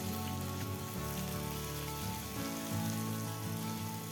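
Sliced onions frying in hot oil in a pan, a dense, steady sizzle with fine crackling spread evenly across the whole moment, close and continuous with no speech.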